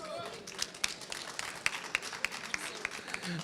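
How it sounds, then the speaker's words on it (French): An audience at a prize-giving ceremony applauds a second-prize winner, scattered sharp claps standing out over a steady patter of hands, with some voices in the mix. "sous les applaudissements de la foule"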